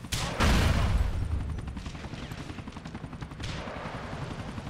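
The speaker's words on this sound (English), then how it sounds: "Good thing we got a rocket launcher with us." A rocket launcher fires in Grand Theft Auto IV, giving a sharp loud blast that fades into a rumbling roar, followed by a second impact and ongoing gunfire-like rattling.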